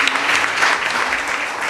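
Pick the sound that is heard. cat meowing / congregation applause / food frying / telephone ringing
congregation applause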